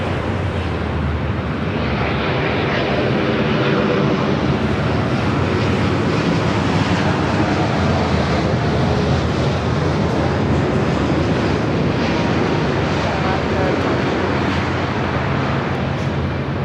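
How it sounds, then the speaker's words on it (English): A Boeing 787-9 Dreamliner lands at Los Angeles LAX, its loud broadband engine roar holding steady and continuous throughout, with no voices. "We have Shaman Air 829 coming in from Shaman on the 787-9 Dreamliner"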